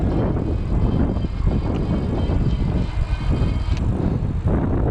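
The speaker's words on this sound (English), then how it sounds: "you can hear it for sure, you know, geared rear hub motor, but not nearly as loud as I would have expected" Geared rear hub motor on an Espin Sport e-bike under throttle, a steady whirring drone blended with road and wind rumble, moderately loud and continuous with no voices.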